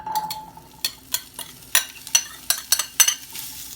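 Roasted chickpeas are stirred in a frying pan over medium-low heat, giving a faint sizzle under a series of sharp scraping and clinking strokes at an irregular rhythm, with no talk.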